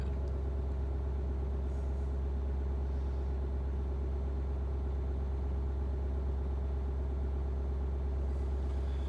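Ford 6.7 Powerstroke diesel truck engine running steadily during a DPF regeneration, a constant low idle drone with a faint hum, heard close and alone without talk.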